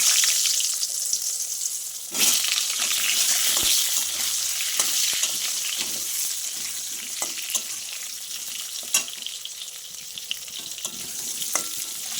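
Potatoes sizzling in hot oil tempered with cumin and a bay leaf for a katla fish dish: a steady loud crackling fry throughout, with occasional sharper pops and light stirring clicks.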